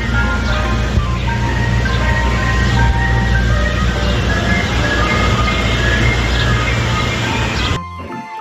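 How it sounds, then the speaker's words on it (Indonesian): Toy ice cream truck plays its tinkling electronic jingle steadily for about eight seconds over a low mechanical whir, then cuts off abruptly. "Yang ini ada mobil es krim."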